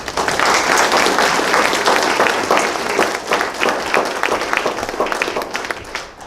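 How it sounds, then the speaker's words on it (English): A room of guests at an Eagle Scout Court of Honor gives a round of applause, loud continuous clapping that thins into scattered claps before it ends. "I'll give them a round of applause."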